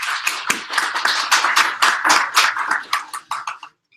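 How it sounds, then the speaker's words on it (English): A small audience at a data visualization meetup claps for several seconds, a dense patter of nearby hands that thins and stops abruptly. "Let's just have a round of applause for who thinks this one should win."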